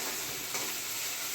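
Vegetable tempering sizzles steadily in a pan, a continuous bright hiss holding even and close with no pauses.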